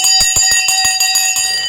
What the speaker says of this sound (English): I wanted to ring the bell live for you as this is being made during a live show.